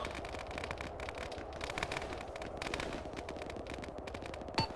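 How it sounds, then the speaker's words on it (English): Heavy, sustained automatic gunfire rattles continuously in an Arma ShackTac battle, a dense stream of rapid shots with one sharper crack near the end. "Heavy fire east, down low."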